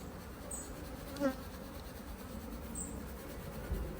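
Continuous low buzzing of honeybees eating icing sugar on the frames of a hive in snowy weather, close and steady throughout, with a faint higher whine passing by now and then.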